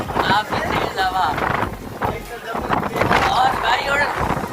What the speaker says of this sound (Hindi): काफी तेज हवा।